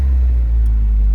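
A donated car's engine firing up after its fuel pump is primed, a loud low rumbling idle heard close up, steady for about a second.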